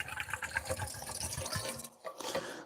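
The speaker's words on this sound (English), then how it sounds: "Tip water bottle over into my water bottle." Water glugs and splashes as it is tipped from one water bottle into another, a quiet, continuous bubbly pour close by that breaks off briefly near the end before resuming.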